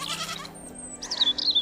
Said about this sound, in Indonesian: Aku mau membawa kambing-kambingku ke padang rumput.